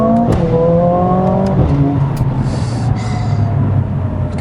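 A Mercedes-AMG CLA 45 S revs hard at high RPM, its engine note climbing and then dropping with sharp gearshift bangs, loud and close, with no talk over it.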